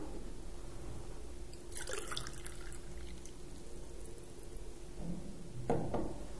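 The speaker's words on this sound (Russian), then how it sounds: "Перельем ее во внутренний стакан калориметра." Hot water is poured into the inner cup of a calorimeter, a faint trickle and light splashing with a few brief drips and clinks, quiet and close.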